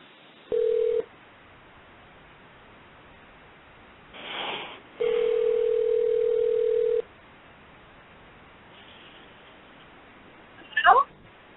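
A telephone line during a call reconnection: a short tone, then a steady dial tone lasting about two seconds, a brief noise burst between them, and a quick warbling electronic sound near the end, with no talking.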